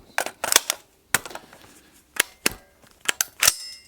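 A GI magazine seated in a WS MCR rifle, a modern Canadian AR-180B, gives a series of sharp metallic clicks and clacks in uneven bursts, close and crisp with no talking.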